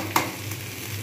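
Potatoes with chilli, turmeric, coriander and cumin powders fry in a pan for aloo dum with peas, giving a steady low sizzle and one sharp scrape of stirring.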